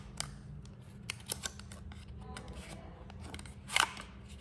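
Apple MagSafe charger box being slit open with a blade, a few sharp cutting and tearing clicks scattered over quiet room tone, with a louder crinkly burst near the end.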